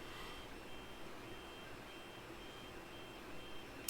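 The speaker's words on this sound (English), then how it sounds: "Sorry if the beeping's annoying," A quiet, steady background hum with a faint repeating electronic beep, like a vehicle backing up somewhere in the distance.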